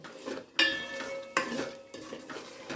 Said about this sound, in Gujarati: બે ત્રણ મિનિટ માટે આપણે એને વ્યવસ્થિત સાંતળી લઈએ